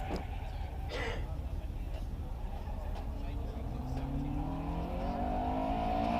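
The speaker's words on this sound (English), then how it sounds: "And that's a Lotus 7 Series 4." A Lotus 7 Series 4 race car climbs the Prescott hillclimb, its engine note rising through the revs over steady background noise, with a voice talking over it.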